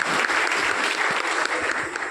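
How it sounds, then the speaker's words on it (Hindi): Loud, sustained applause from a crowd at an Indian political gathering, many hands clapping together in a thick continuous roar, close and unbroken by talk. "आप सब तालियों से स्वागत करें।"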